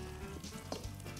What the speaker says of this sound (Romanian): punem o țâră piparcă de prăjit.